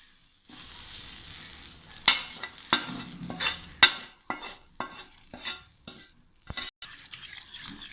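Beaten egg mixed with sautéed capsicum for an omelette: a spoon stirs and scrapes with a soft sizzle, bright clinks against the vessel coming in uneven bursts and pauses, close and alone.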